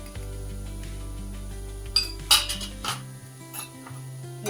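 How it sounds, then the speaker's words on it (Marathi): A spoon stirs onion with turmeric and asafoetida in a pan, scraping and clinking against the metal in irregular strokes, close and clear, with a low steady hum underneath. "हे पण सगळं आता मिक्स करून घेते मी."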